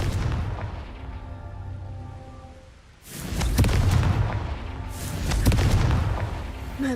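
Confringo blasting spell explosions in the Hogwarts Legacy video game: two heavy booming blasts, each a sudden loud burst with a rumbling tail, following a quieter stretch of sustained tonal game sound.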